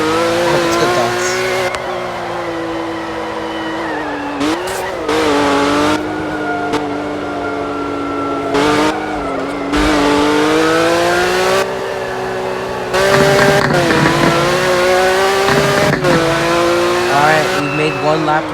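Porsche cars from the Roblox game Driving Empire lap a circuit track, their engines droning and rising in pitch through repeated shifts, with tire squeals and a few abrupt cuts, all under a voice talking over the game.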